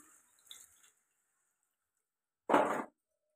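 Water poured into a pan of egg curry, heard as a single short, loud gush of about half a second after a quieter clatter, with no talking.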